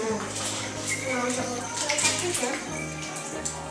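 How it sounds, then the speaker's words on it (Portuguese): Hands dirty with egg are rinsed under running tap water during home baking, a steady close splashing with faint voices mixed in. "agora lava as mãos"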